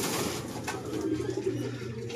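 Pigeon cooing during racing pigeon club training in Lucena, Quezon: a low, steady throaty coo rolls on continuously at moderate volume, with no speech.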